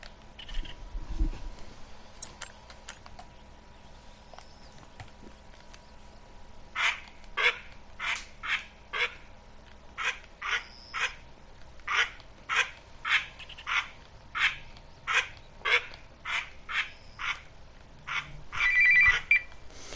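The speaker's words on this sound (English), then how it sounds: "we got some ducks coming" Ducks calling in a duck hunting video game set in Mississippi Acres, where green-winged teal are hunted. A steady series of about fifteen short, evenly spaced calls, moderately loud, sounds over a low ambient background with no talk.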